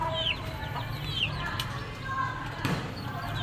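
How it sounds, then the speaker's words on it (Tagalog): Five egg-laying hens in a backyard coop give a few soft, scattered clucks and squawks over a low, steady background. "5 nangingitlog na manok."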